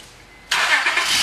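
A Honda Odyssey EX minivan engine catches half a second in and settles into a steady, fairly loud idle with a broad, even rush, close by and without talk.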